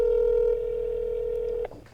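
A telephone number being dialed to call a pizzeria: a steady dial-type tone holds loud and close for over a second and a half, then cuts off abruptly, with no talking.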